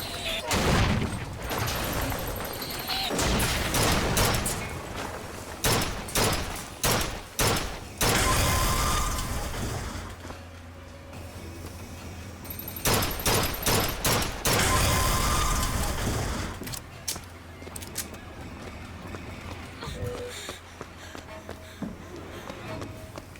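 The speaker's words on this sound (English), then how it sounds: "There are several unfriendly turrets." Several hostile turrets firing in the video game Bioshock Infinite: rapid bursts of sharp gunfire pop in clusters over a busy game soundscape with mechanical clanks and booms, loud and close, no talking.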